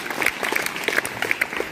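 An audience at a women's empowerment training event claps loudly and continuously, a dense steady burst of applause with no voices over it.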